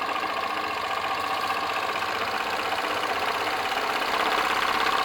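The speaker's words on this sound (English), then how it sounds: "Straight away you can hear that engine." A model hit-and-miss engine runs with a Baker fan, giving a steady mechanical chuffing and knocking rhythm with a faint whirring tone, close and moderately quiet, no talking.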